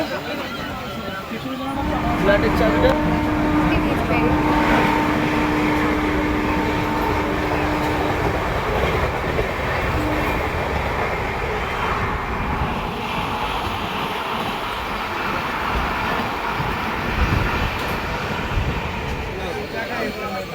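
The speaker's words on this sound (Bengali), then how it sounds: "এই যে দেখো নৈহাটি জংশন" Night ambience at Naihati Junction railway station: a continuous loud rumble of trains and machinery with a long tonal hum, and people talking throughout.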